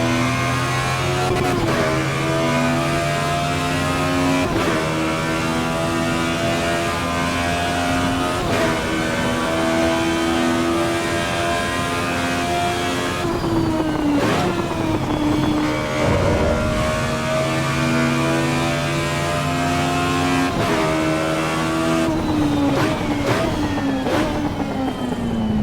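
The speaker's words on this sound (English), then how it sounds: "That exhaust sound is awesome." Race car exhaust from the Assetto Corsa Evo racing game, a loud continuous engine drone with steady harmonic tones that climb and drop as revs change through gear shifts, with no talk over it.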